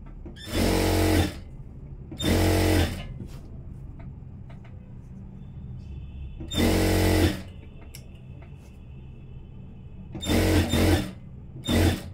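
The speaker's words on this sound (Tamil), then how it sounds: "இப்போ நான் தையல் போட்டுடுறேன்." A sewing machine stitching a churidar runs in four short loud bursts of about a second each, separated by quieter pauses with faint background hum.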